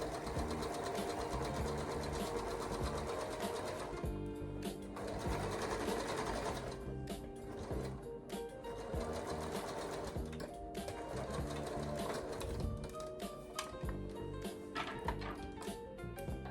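A sewing machine stitching directional dress fabric runs in steady rapid bursts, its rhythmic needle clatter pausing and restarting several times, close and clear with no talking.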